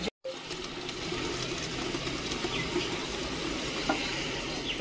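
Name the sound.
tap running water to fill a bowl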